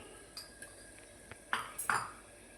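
A spoon stirs potato peel curry in a pan, giving a few light clinks followed by louder scraping knocks against the metal, close by and quiet.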